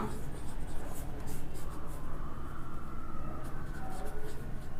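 Chalk or pen scratching across a board during a Class 12 maths integration lesson in Hindi, a steady soft scraping with short strokes and taps, fairly close, with faint room noise.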